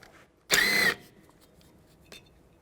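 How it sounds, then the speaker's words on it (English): A power tool with a T30 socket backs out a front brake screw on a 2003-2007 Cadillac CTS: one short, loud half-second whirring burst, then quiet with a faint click afterward. "Now we'll take this screw out,"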